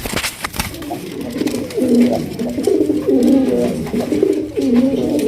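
A large male Marshal pigeon coos close by in repeated throaty, rolling phrases, loud and distinct, with a few sharp clicks and faint background voices.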